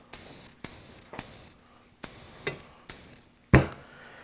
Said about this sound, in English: I have some Remington Bore Bright of my mat down here, so I'm going to